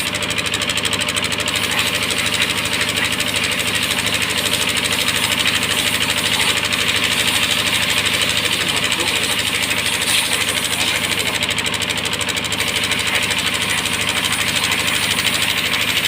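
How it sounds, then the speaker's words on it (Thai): A car engine runs at a steady idle-like drone while its air filter is checked, a constant close mechanical hum with no break across the whole stretch. "เครื่องรถแรงจริงเลย"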